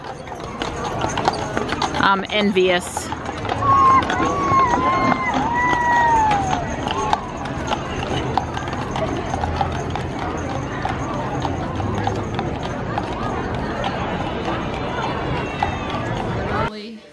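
Horses clip-clop steadily on pavement, hooves ringing in a continuous rhythm beneath crowd noise and a person speaking briefly.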